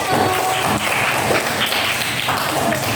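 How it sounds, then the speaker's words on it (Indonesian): Students in a classroom clap for a group that has just finished presenting on bullying, a continuous, fairly loud patter of many hands with faint voices beneath. "Tepuk tangan untuk kelompok 1."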